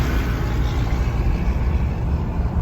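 The Maxidyne engine of a Mack R700 truck drones steadily at around 1100 revs, a loud, continuous low rumble with no talk over it.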